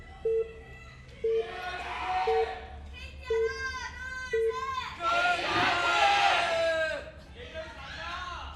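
Spirited crowd at a StarCraft esports match cheers and roars through the clip, swelling loudest mid-way, with a repeating short beep-like tone and other game sounds running underneath.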